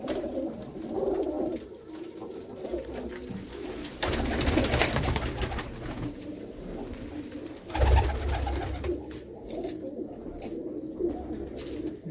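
Golden pigeons cooing close by in low, throaty, repeated calls, several birds overlapping with some fluttering and shuffling, no voices.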